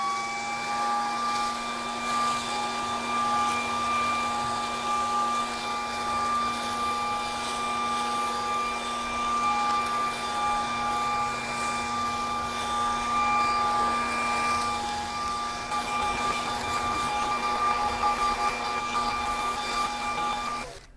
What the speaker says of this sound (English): Going to see how well it just does on the leaf blowing.